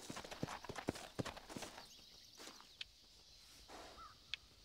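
Horse hooves clip-clopping in the video game Red Dead Redemption: several quick, fairly close hoof strikes at first, then sparse faint steps with birdsong in the background.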